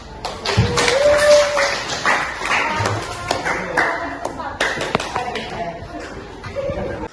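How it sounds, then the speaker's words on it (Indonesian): Classroom clapping from students with scattered claps and taps, mixed with voices and a short vocal sound, moderately loud and uneven throughout. "Ya, tepuk tangan."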